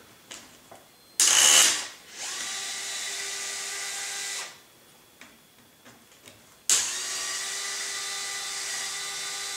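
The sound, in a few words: removing screws from Trex 700E helicopter tail boom area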